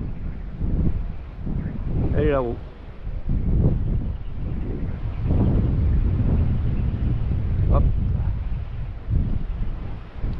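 Wind gusts buffet the microphone near a marsh nature reserve, loud low rumbling that swells and fades unevenly throughout, with a person briefly speaking over it.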